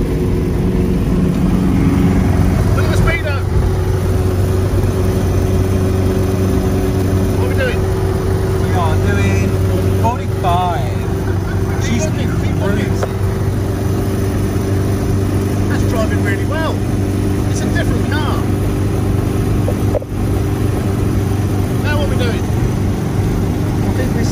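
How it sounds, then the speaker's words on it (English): Steady engine drone and road rumble from an Austin 7 on the move, loud and continuous throughout, with voices talking over it. "driving this as it is now the Austin 7"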